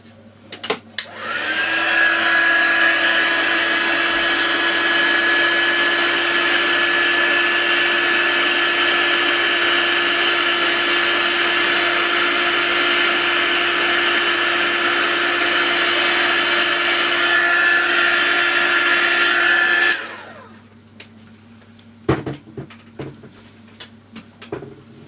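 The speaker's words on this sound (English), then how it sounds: "we now need to use our heat gun to set that" A heat gun blows continuously for about eighteen seconds with a loud, steady whooshing whine while setting embossing powder on a handmade card, then cuts off, followed by a few light handling clicks.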